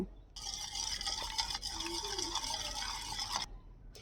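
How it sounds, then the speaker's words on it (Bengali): Two eggs beaten with a hand whisk in a bowl while making a homemade cake, a steady close scraping, clattering whirr running for about three seconds between short pauses. "আমি এখন হ্যান্ড উইচ দিয়ে ডিম দুটো ফাটিয়ে নেব"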